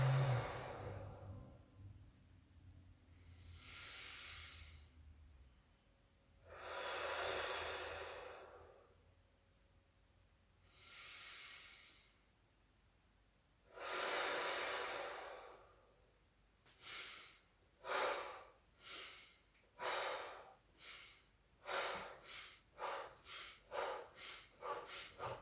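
Slow guided breathing during a hypnosis session, long soft inhales and exhales spaced several seconds apart, then quicker, shorter breaths near the end, faint and close.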